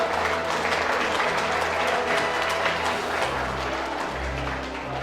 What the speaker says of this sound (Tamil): 3 பேருக்கும் வாழ்த்துக்களை தெரிவிச்சு நல்ல கரகோஷம் கொடுப்போம்.